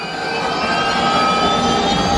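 The Millennium Falcon Smugglers Run ride at Disney's Hollywood Studios roars with a loud spaceship take-off effect, a dense rising engine rumble with a jet-like hiss that swells steadily over a couple of seconds, with no talking.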